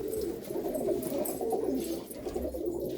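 Malwai pigeons coo in soft, throaty, overlapping calls, close and continuous with no talk.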